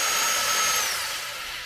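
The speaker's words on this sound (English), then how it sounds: "It's going to drill at a low angle. Just want to make sure I got the right depth on the screw." A power drill drives a screw at a low angle into a guitar body to mount a tremolo claw, a steady close whirring whine that holds for under two seconds and eases off slightly at the end.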